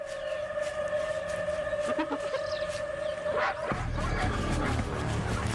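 African wild dogs, about Doberman size, yip and whine in a pack while confronting a hyena, high sustained cries and short yelps under a steady outdoor background that shifts to a lower rumble partway through.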